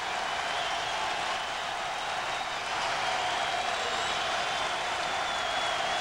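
Basketball arena crowd in the final minute of a 2002 Villanova versus UCLA game, a steady, loud roar of cheering and applause that holds without a break throughout.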